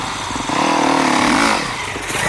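A motocross motorcycle engine revs during a testing session, rising to a loud buzzing peak in the middle and then dropping back to a lower drone, heard close with no talking.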